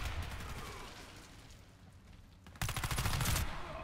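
Rapid automatic gunfire from a Beretta MX4 Storm in the Warface online shooter, a dense rattling stream of shots that grows louder and heavier in the last second, with no speech over it.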